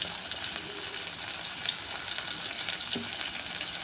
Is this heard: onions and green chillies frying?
yes